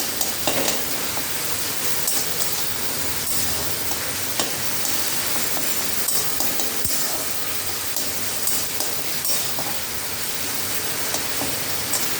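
A tomato is mashed with a metal spatula as it fries in a pan for a bhola fish tawa fry, with a continuous sizzle broken by light, repeated scraping taps against the pan.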